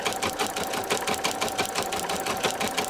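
An embroidery machine runs a fill design over mylar, its needle hammering in a fast, steady rapid-fire rhythm, close and continuous with no talking.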